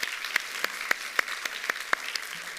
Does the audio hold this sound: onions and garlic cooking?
no